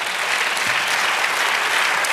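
A church congregation gives steady, dense applause during a worship service, a continuous wash of many hands clapping at once.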